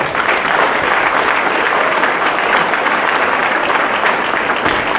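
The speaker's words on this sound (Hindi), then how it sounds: "हम जोरदार तालियों से ये कलाकारों को धन्यवाद देंगे।" Loud, dense applause from a crowd thanking about sixty performers at a Ram Leela show at a Vedic centre in Papatoetoe, a steady wash of clapping with no break.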